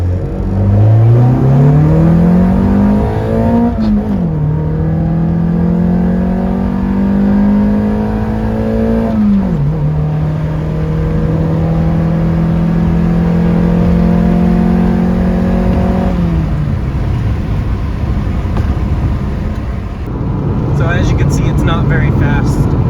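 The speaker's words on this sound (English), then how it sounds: "The VTEC sounds pretty good, but it is still stock exhaust and really tiny intake pipe." A Honda car with a VTEC engine, stock exhaust and a small intake pipe accelerates hard through the gears, its engine note rising steeply, dropping at each shift and climbing again, loud and close throughout.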